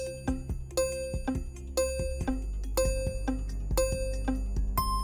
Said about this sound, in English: Sorry, Diane, pero nauna ang buzzer